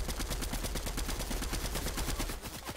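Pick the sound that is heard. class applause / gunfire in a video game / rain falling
gunfire in a video game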